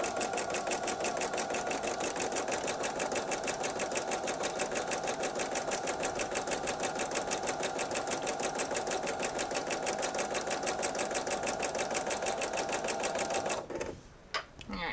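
A sewing machine runs steadily through quilt fabric, a fast even rhythmic whirr close by for most of the stretch before it stops abruptly near the end.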